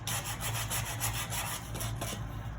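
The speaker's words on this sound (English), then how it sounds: "give it a little sand" Sandpaper rubbing over a plywood carry-all, a steady rapid back-and-forth scratching that runs continuously and fairly loud, close up, with no one talking.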